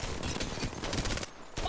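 Apex Legends video game gunfire, a rapid burst of automatic shots in a dense rattling fusillade, briefly breaking off before resuming, loud and close.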